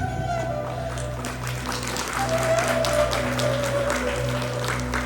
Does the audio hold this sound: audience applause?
yes